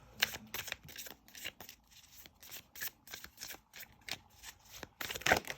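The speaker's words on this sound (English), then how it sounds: "I'm just going to do the shuffle the cards" Tarot cards being shuffled by hand at close range, a quick series of soft riffling flutters and taps with brief pauses between bursts.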